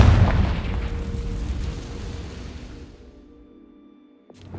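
A Confringo blasting spell explodes in the Hogwarts Legacy video game as a loud, booming blast that rumbles and slowly fades to near silence, with a small thump at the very end.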